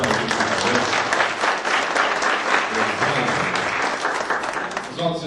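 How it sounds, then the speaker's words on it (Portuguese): After a company talk, an audience applauds with dense, sustained clapping that stays loud and steady and thins out only slightly at the close. "Então podemos aplaudir, por favor."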